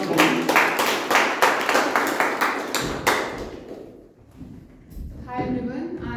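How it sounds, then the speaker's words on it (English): Audience applause for a speaker at a Toastmasters club meeting, brisk clapping from a modest indoor group that fades after a few seconds, followed by a voice beginning to speak. "With a big round of applause."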